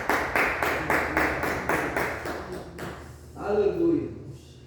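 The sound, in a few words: congregation applauding in church sermon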